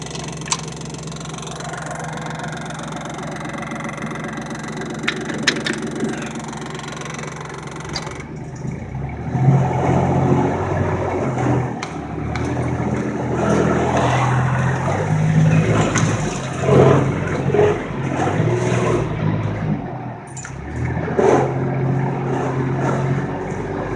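A four-wheel-drive vehicle's engine labours on a rough drive to Big Lake, Alaska, first a steady idle-like drone, then a louder, rumbling, uneven surge as it moves over rough ground.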